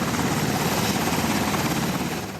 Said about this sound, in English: As military helicopters transport the seriously injured or ill